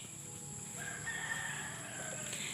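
A rooster crows once, loud and drawn out, over a steady background hum.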